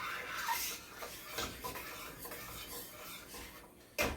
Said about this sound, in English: we're going to go in with the tomatoes. Make sure you get the whole can. Give this a good mix.